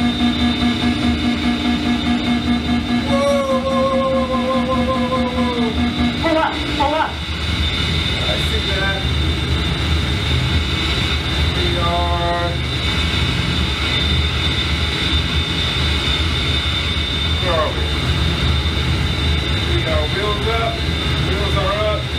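A-10C ground-attack jet accelerating through takeoff in the DCS flight simulator, a steady loud engine roar with whining tones running throughout, with a voice speaking over it.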